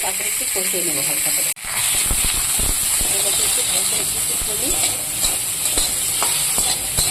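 Rice tossed into hot oil with nigella seeds hisses and sizzles steadily at close range, with a brief cutout early on, and faint talk runs underneath.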